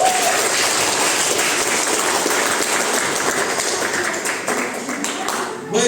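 Audience applause during a personal development seminar, steady dense clapping filling the room throughout, fading slightly near the end.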